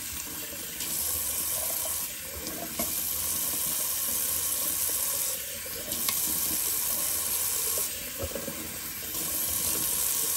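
Tap water runs steadily into a sink during a wet shave, a continuous close hiss and splash with slight shifts as the flow is disturbed, and no voices.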